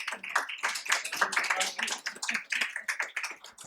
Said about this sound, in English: I would like to request all of you to make a big round of applause.